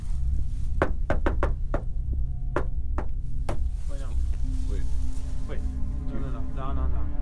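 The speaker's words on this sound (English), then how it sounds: "we have to give the Mole Man a knock so he knows we're here." Sharp knocks on the door of an abandoned building, a quick series of loud raps followed by a few more spaced ones, then excited voices talking over the scene.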